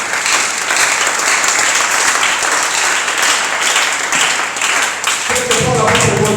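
A church congregation at a Wednesday worship service applauds in a loud, dense, sustained wave for over six seconds, with a few voices rising through the clapping near the end.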